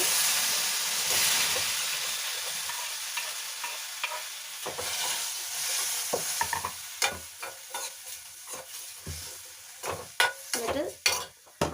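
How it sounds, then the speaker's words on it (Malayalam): Turmeric and tomato are stirred in a hot frying pan, starting as a steady hiss and sizzle. Sharper spatula scrapes and clacks come faster and louder toward the end. "അതിൻ്റെയൊക്കെ ആ ഒരു പച്ചവും മാറിയതിന് ശേഷം കുറച്ച് ഒന്ന് ഇളക്കി കൊടുക്കുക"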